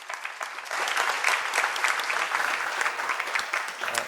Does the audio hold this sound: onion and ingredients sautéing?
no